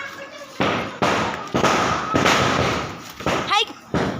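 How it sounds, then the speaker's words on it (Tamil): A string of Diwali firecrackers bursting one after another, each a sharp bang with a rough crackling tail, fairly close, with a voice calling out between blasts. "பட்டாசு வச்சு முடிச்சாச்சு"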